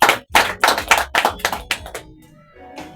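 A church congregation claps at a Swahili worship service, a loose run of distinct hand claps in an uneven rhythm that thins out and fades toward the end, with no talking over it.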